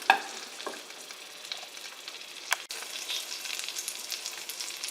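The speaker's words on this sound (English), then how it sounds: "you really boil that grease, and you take a spoon and you just get it right over the meat" Duck magret sizzles steadily in very hot rendered fat while grease is spooned over the meat, giving a continuous close crackle with a few sharper spoon clinks and spits.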